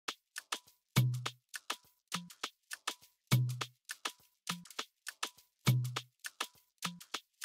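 Two stacked Ableton Live stock shaker layers in an Afrobeat groove, crisp ticking hits riding over a repeating pattern with low thumping kicks, looping steadily and close.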